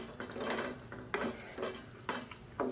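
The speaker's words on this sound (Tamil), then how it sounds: "வெண்டைக்காயில் கொஞ்சம் மிளகாத்தூள், மஞ்சள்தூள், உப்பு கொஞ்சம் போட்டு வதக்கி எடுத்துக்கோங்க" Okra sautéing in a pan with chili powder, turmeric and salt, stirred with a utensil in several scraping strokes that clink against the pot over a soft, low sizzle, heard close and without talk.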